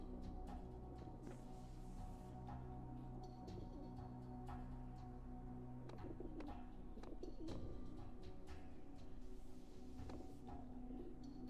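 Pigeons cooing within The Talos Principle video game, soft repeated coos and chirps over a steady low ambient drone, moderately distant.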